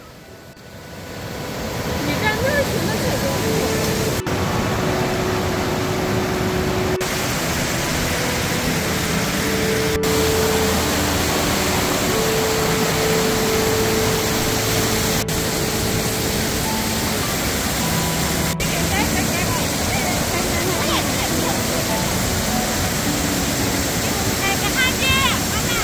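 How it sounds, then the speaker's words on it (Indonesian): A long row of low waterfalls at Jiuzhai Valley National Park, in thin snow, gives off a steady, loud roar of cascading water. The dense rushing noise continues unbroken and close throughout. "deretan air terjun rendah memanjang dengan gemuruh air yang tak ada henti"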